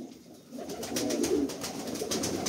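Pigeons coo close by in a bird market, with soft, low rolling calls repeating over a faint background.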